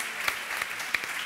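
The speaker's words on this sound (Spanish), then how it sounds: "Un aplauso para John Maxelaya, que luego sube al escenario" An audience at a live cooking show in Córdoba applauds in a brief steady patter, with a few sharper claps standing out above the dense crackle.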